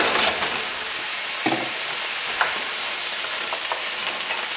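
Diced jalapenos, seeded, sizzle as they fry in a pan for a Texas-style venison chili, a steady close crackling hiss with a few small pops and scrapes, no voices.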